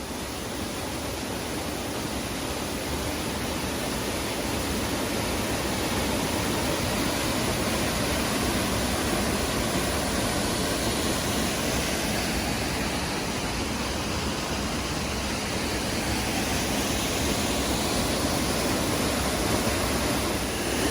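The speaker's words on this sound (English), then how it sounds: "no more than 4 or 5 meters high, but a really pretty little waterfall." A small waterfall about 4 to 5 meters high on the Albert River in Lamington rainforest pours steadily, a continuous broadband rush of falling water that stays even and fairly close throughout, with no voices.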